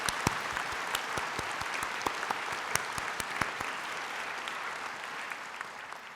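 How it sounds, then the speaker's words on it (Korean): Applause from graduates at a university degree ceremony, many hands clapping in a dense, even crackle with a few sharper claps standing out, sustained and slowly thinning toward the end. "서로에게 박수 한번 보내주십시오."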